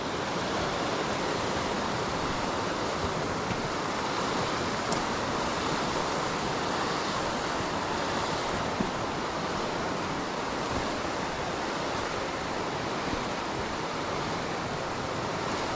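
Water cascading over a sloped stone dam wall on the River Wansbeck makes a steady, dense rushing roar that holds an even level throughout, with no voices.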